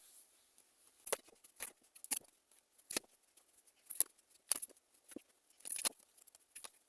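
Tarot cards drawn and handled one by one in a reading, a series of soft papery shuffles and snaps spaced a second or so apart, faint and close with no talking.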